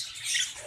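A yellow budgie sitting in a clay breeding pot lets out a single harsh, rasping squawk, close and fairly loud, lasting well under a second.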